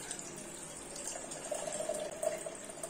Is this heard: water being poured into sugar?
yes